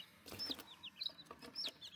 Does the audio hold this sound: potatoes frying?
no